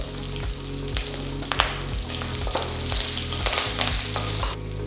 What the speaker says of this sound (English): Once the mustard seeds start splattering, add the red chilies.